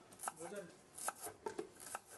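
Knife chopping food on a board in a home kitchen, several sharp irregular taps spaced about half a second apart, close and fairly quiet, with faint voices around.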